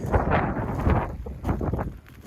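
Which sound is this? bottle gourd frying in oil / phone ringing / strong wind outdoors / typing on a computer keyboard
strong wind outdoors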